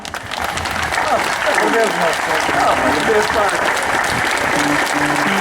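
Church congregation applauding at a parish day celebration in Recardães and Espinhel, steady dense clapping that holds for several seconds at fairly loud level, with murmuring voices mixed underneath.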